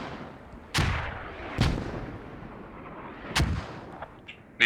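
Mortar fire in a military video game: three heavy booming launches spaced about a second or two apart, fairly close and loud, with a faint fourth thud near the end and no talk.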